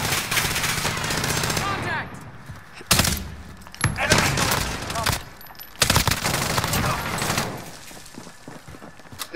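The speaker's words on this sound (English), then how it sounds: "I'm under fire" Rapid automatic gunfire in a Warzone Resurgence match, loud close bursts of fire separated by short gaps, with players talking over the shooting.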